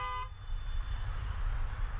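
A short, loud car horn toot at the very start, then steady road rumble and traffic noise continue underneath.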